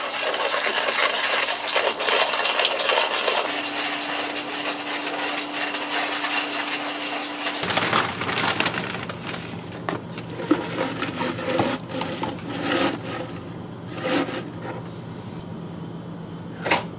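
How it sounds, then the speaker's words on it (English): A coffee grinder crushes beans with a loud steady whirring grind in the first half, then stops and leaves a lower motor hum with clicks and knocks, no talking. "So right now I'm just grinding my coffee."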